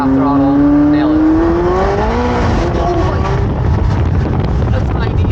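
McLaren 720S pulling hard in second gear at half throttle, engine note sweeping steadily upward in pitch over several seconds, loud and close against heavy wind rush.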